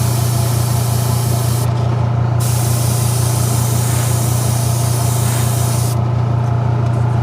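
Golden carbon black spray paint hisses steadily onto a fishing lure, a continuous airy spray over a low constant hum, briefly dipping twice.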